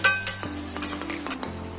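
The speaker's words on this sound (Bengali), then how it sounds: "মাংসটা ভালো করে মশলার সঙ্গে মিশিয়ে দিলাম, একটু কষিয়ে নেব ভালো করে।" Chicken sautéing with spices in a pan: close spatula stirs and clinks over a continuous low sizzle, a few sharp scrapes in quick succession.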